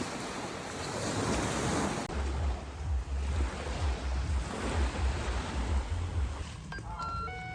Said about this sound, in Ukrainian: це шум мор, який зачаровує та відновлює наші душі